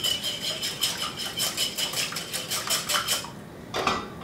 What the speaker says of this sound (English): I'm gonna go ahead and whisk those together just briefly